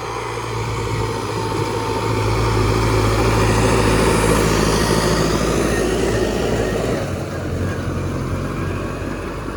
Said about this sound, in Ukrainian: Оцей 110 лошадей тракторець. Йому хватає, він пре.